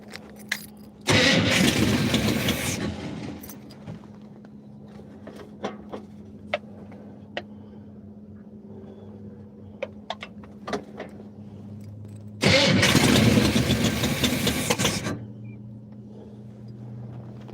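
A Cannabago motorhome engine with untimed ignition and an exhaust leak cranks and catches twice, roaring loud for a few seconds each time, with clicks and clunks in the quiet between the attempts.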